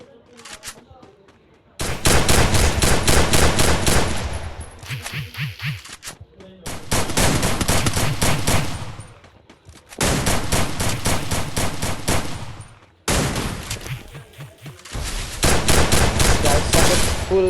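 Rapid bursts of automatic gunfire in a Free Fire battle, loud and close, coming in several long volleys separated by short pauses, with the rattling shots dense and continuous through each burst.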